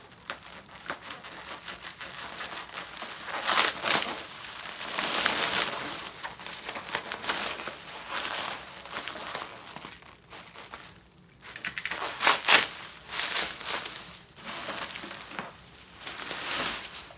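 Cardboard shipping box holding a Macintosh Portrait Display being cut open, with steady scraping, crinkling and tearing bursts of varying strength throughout, close and fairly loud, with no talking.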